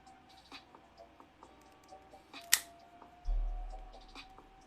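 A cigar cap being cut with a cutter, a sharp crisp snip standing out against a quiet room with faint hum and small handling clicks, then a low thump afterward.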